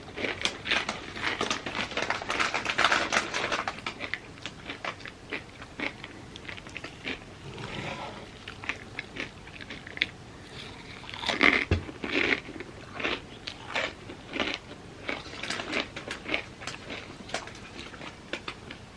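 Corn chips crunched and chewed close to the mic at a mukbang, with repeated loud crisp bites and dense crackling chewing, easing off in the middle before more bursts of crunching.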